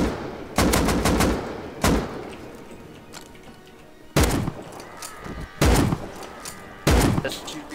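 Gunfire in the survival game Rust during a PvP clash, with several loud, sharp shots coming in separate bursts across the stretch, some single cracks and some quick clusters, over a low background of game ambience.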